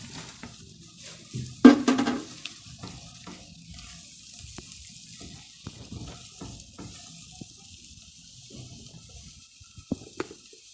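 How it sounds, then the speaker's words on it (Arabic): Onions are stirred into melted butter in a pan, making a faint, soft sizzle with a brief clatter of the spoon early on and scattered light scrapes afterward. "انزل بالبصل كده واقلبه كويس"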